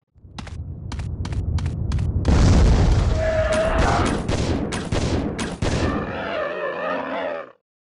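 Gunshots from a handgun in the survival horror game Resident Evil Code Veronica: a quick run of sharp booming reports, first spaced then layered over a roaring creature and heavy impacts, loud and close, no speech.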